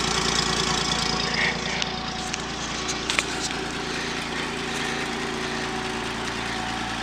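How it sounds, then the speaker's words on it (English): Exhaust note of a 1947 Oldsmobile 76 Dynamic idling after a cold start, a steady low rumble with even pulsing, fairly quiet, with no voices throughout. "Exhaust note."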